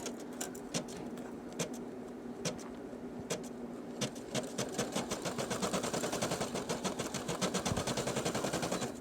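A Brother PE 800 embroidery machine stitches a Mandalorian patch. Its needle taps out rapid mechanical clatter up close, sparse at first, then a dense, fast, steady run of stitches.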